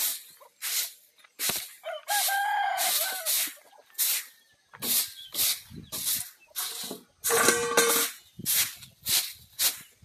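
Chickens on a rural farm early in the morning: a rooster crows loudly and nearby while hens cluck in repeated short bursts, with bird calls overlapping throughout.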